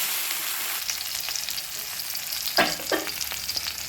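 Chili powder is dry-fried in a pan, giving a steady close hiss broken by two quick scraping strokes of a utensil near the end.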